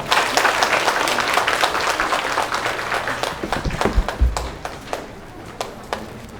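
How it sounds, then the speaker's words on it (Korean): Audience applause welcoming a lecturer at a college admissions briefing, a dense burst of clapping that thins into scattered individual claps toward the end. "강사님을 큰 박수로 맞이해 주시기 바랍니다."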